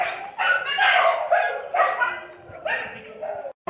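A dog on a town street in Frutal, Brazil gives a string of loud, close barks and yelps, about five bursts in quick succession, each separated by brief pauses.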